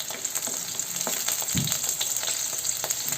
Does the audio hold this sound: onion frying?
yes